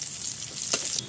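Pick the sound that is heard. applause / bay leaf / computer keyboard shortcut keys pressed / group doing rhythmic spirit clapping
bay leaf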